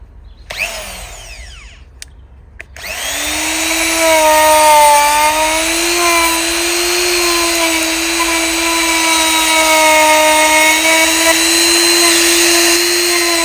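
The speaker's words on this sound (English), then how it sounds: "The other tool to use is the Makita die grinder" A Makita die grinder with a carving bit shapes a thick bonsai trunk, spinning up after a few clicks into a loud, steady high-pitched whine that holds its pitch with slight wavering as it cuts.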